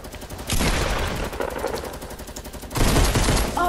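Gunfire in the video game Fortnite comes as loud, close bursts of rapid shots. One volley runs for about two seconds, there is a brief lull, then a second burst follows.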